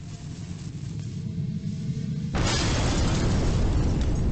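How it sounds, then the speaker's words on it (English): A gunpowder blast in the Haunted Hotel hidden-object game bursts in sharply after a quieter stretch, then holds as a loud, sustained roaring rumble of debris and shattering glass. "I don't think that little gunpowder would make that big an explosion"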